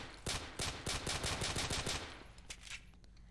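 Weapons from a Garry's Mod weapons mod, including shotguns and pistols, fire in the video game: a rapid burst of sharp shots, followed by a few spaced single shots.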